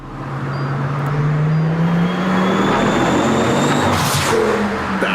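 A car engine revs and holds a rising, steady drone, loud and close, building over several seconds with a brief surge of broadband roar near the end; no talking.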